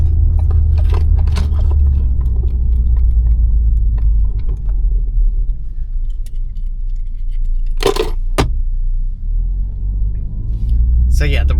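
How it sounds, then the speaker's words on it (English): Steady low engine and road rumble fills the cabin of a car with a manual transmission whose shifting is handled by a computer, driving along continuously with a few brief clinks and scrapes near the end. "We are in a manual transmission car,"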